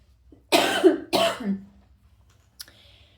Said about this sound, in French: Excusez-moi, petit toux encore.